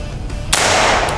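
A single sharp gunshot during shooting practice cracks out loudly mid-clip and decays into a ringing tail, with quieter background before it.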